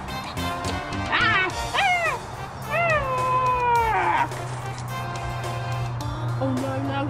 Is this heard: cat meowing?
yes